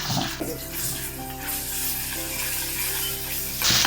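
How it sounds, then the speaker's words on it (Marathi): Cumin seeds sizzling in hot oil for a dal tadka, a steady, close frying hiss that holds evenly throughout, with a faint low hum underneath and a brief louder flare at the very end. "तर आपलं हे तेल तापलं आहे त्याच्यामध्ये आपण जिरे घालतोय एक टीस्पून जिरे घालतोय"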